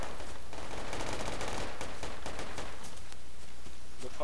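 Rapid gunfire rattles in the military shooter game Project Reality, dense bursts of automatic shots crackling close and loud in quick succession, continuous across the moment with no talk.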